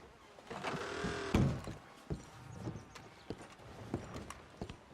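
Horse hooves clip-clop in a steady, moderately close rhythm across a dirt setting in the Red Dead Redemption 2 video game, with a few sharper knocks mixed in.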